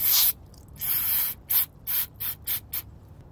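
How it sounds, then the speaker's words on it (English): Brake parts cleaner sprays in short hissing bursts onto a sugar-clogged sock fuel filter from a salvage Bentley Flying Spur, one long spray followed by several quick, close puffs with quiet gaps between. "Watch what happens when I spray it with the brake parts cleaner."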